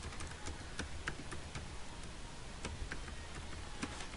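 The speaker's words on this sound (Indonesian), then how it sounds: "kemudian mengetik judul dari peta yang teman-teman buat" Keys on a computer keyboard tap in irregular, quick clicks while a map title is typed, close and fairly soft over steady background noise, with no voices.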